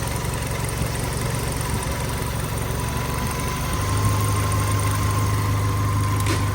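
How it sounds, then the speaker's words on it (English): Suzuki Samurai engine idling steadily, a close, even low rumble with a constant mechanical hum that holds throughout and deepens slightly midway, with no talking. "That idle's perfect."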